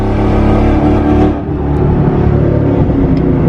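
A boosted Ford Mustang GT engine roars loudly at just over half throttle, drops out abruptly partway through as if cutting out, then picks back up into a sustained drone.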